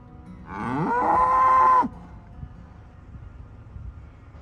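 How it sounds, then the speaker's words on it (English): A single long, loud moo from a neighbouring farm's cow, rising and holding for over a second before cutting off, followed by quiet outdoor background on an off-grid Australian property. "Our neighbours' cows don't seem very happy with Paul though."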